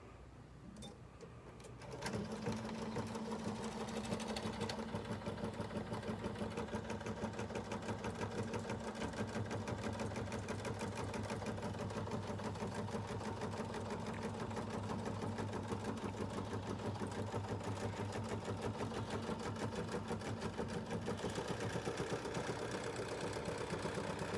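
A Bernina 770 Plus embroidery module runs at a steady fast rhythm, a continuous mechanical whir and rapid ticking of stitches, fairly quiet and uninterrupted after a brief start.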